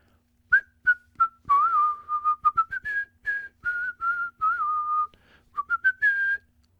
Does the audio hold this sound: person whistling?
yes